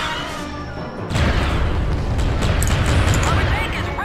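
Tank cannon firing in a war video game, a sudden loud booming blast with a rumbling roar that sustains afterward, following a brief moment of quieter background noise.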